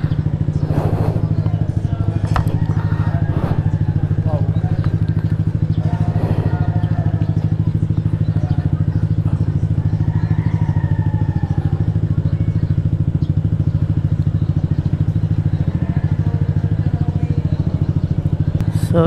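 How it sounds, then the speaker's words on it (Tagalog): A Yamaha NMAX scooter with badly worn tires is ridden during a motorcycle registration test on Aguinaldo Highway, Dasmariñas, its steady low engine drone loud and close throughout, with faint background voices and traffic over it. "sinasalang si NMAX Emmanuel natin mga tol"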